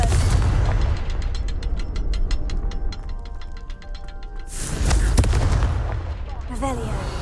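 A Confringo fire spell blasts in the game Hogwarts Legacy, a heavy whooshing explosion after a stretch of rapid, rhythmic mechanical clicking, loud and close with booming low rumble and a brief voice nearby.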